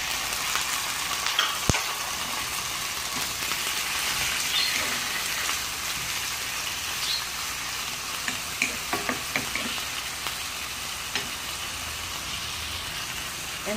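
Chicken frying in a pan for pininyahang manok, a steady loud sizzle with occasional clicks and scrapes of stirring, close and continuous without talk.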